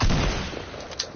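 A single loud gunshot boom from a video game opens the moment, followed by a decaying rumble and a small click near the end, no voices.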